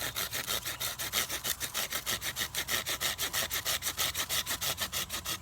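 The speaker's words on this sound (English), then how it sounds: "I always cut all the way through the spindle" A hand saw cutting through a juniper wood bow drill spindle, giving fast, steady back-and-forth rasping strokes, close and loud, in an even rhythm throughout.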